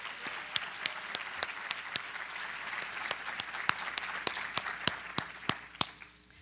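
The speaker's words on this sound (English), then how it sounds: "Can we please give Tara another round of applause?" Fairly quiet audience applause at a school recognition ceremony for top seniors, with individual sharp claps standing out over a soft, steady wash of clapping that tails off near the end.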